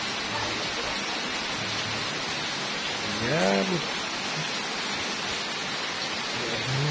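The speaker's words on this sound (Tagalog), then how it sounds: "So yan, may ulan na dito siya." Steady rain falling outdoors, a soft continuous hiss that runs through the whole stretch, with a voice speaking briefly partway through.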